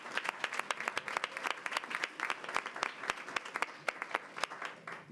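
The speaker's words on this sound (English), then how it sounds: "Let's give them a round of applause." A room at a school board meeting claps for a high school football team that finished as state 3A runner-up, with steady, moderately sized applause that lasts throughout and tapers slightly at the end.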